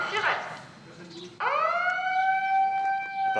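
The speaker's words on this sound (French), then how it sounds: "Au son de la sirène, c'est tout le village qui s'arrête" A village siren starts abruptly and holds a steady wailing tone, following a moment of voices and background noise.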